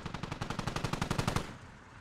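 In the video game Squad, a burst of about sixteen rapid machine gun shots rattles in even rhythm, fairly faint and distant, then cuts off into a fading echo.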